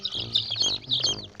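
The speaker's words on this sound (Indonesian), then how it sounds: "Di sini juga kakak telah menemukan anak ayam" Baby chicks cluck and peep in a quick, continuous run of high, chirpy calls, close and moderately loud, with several small birds sounding together.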